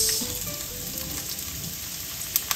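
Fresh garlic and onion sautéing over medium heat in a pan, a steady broadband sizzle held for the whole stretch with a couple of brief clinks near the end, no voices.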